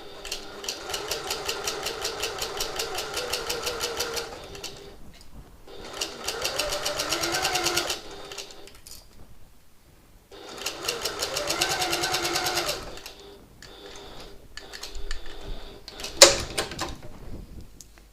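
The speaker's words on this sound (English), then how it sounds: "I'll clip it again into place so that I can sew on the right side" A sewing machine stitches a reversible hobo bag with contrast red thread in three steady runs of rapid needle strokes separated by pauses, followed by lighter fabric handling and a sharp click.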